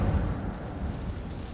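A rumbling fiery whoosh from the Incendio fire spell in Hogwarts Legacy, a dense low roar lasting under two seconds with no talking.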